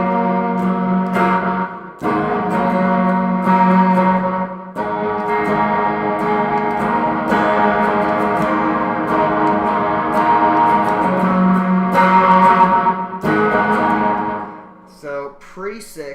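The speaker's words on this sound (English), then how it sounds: "crank the reverb up, put on some delay, some chorus" Electric guitar drenched in reverb, delay and chorus, playing a simple song with sustained ringing chords and echoing repeats, loud and close, ending in fading delay trails.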